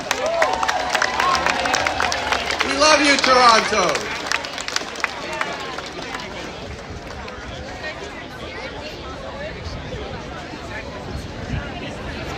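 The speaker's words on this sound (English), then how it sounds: "A big applause to Toronto." A crowd at an outdoor Hungarian festival in Toronto's Sankofa Square claps and cheers in a broad, continuous wash of applause; a voice calls out over it at the start before the clapping carries on alone.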